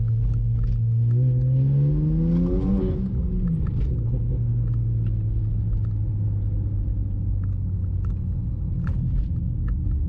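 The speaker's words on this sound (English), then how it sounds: "First time I've ever spun tires right there." A car launches with traction control off, engine surging briefly and tires spinning in a short rising whine, then settling into a steady low rumble with faint ticks and clicks.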